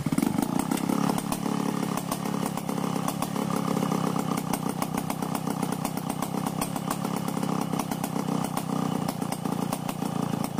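A 070 chainsaw engine runs continuously and loudly, revving at a steady high pitch throughout, while its carburetor is tuned for an overflow problem.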